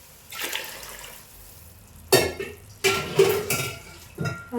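Water for beef biryani is poured into a cooking pot in a few short, splashy pours separated by pauses, with a light clink of the metal pot in a quiet kitchen.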